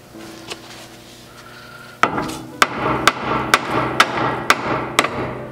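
A sledgehammer strikes a steel tie rod end seated in a steering knuckle, seven sharp metallic whacks in a steady rhythm after a quiet lead-in, loud and close with ringing decay.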